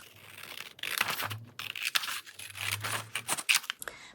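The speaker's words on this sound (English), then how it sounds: "So let's start out by cutting this out." Scissors snip and slice through a paper ephemera sheet to free a printed tag, with crisp cutting strokes and rustles of handled paper, close and fairly quiet.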